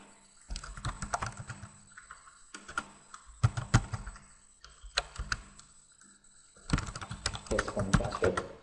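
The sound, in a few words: typing login credentials on computer keyboard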